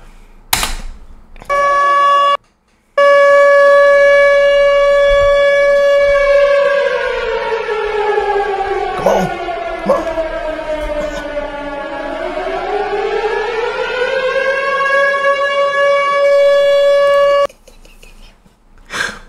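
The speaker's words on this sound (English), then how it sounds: "Where is my sirens at, man?" A loud civil-defense-style siren wails steadily, its pitch sagging and then rising again, and it runs for most of the clip between short gaps.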